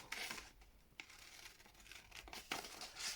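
Scissors cut perfume-themed paper ephemera in a series of quiet, close snips and crinkles, with short pauses between cuts and no talking.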